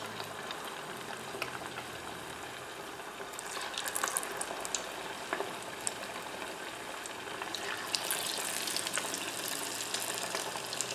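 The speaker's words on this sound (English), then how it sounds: "I'm going to be deep frying these. I'm just going to be doing these in a small pot." Oil bubbles and sizzles steadily as shrimp deep fry in a small pot, with crackling pops intensifying at moments; no voices.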